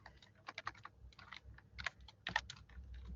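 Soft, quick keystrokes patter on a computer keyboard as code is typed, coming in uneven bursts with short pauses, quiet and close with no voices.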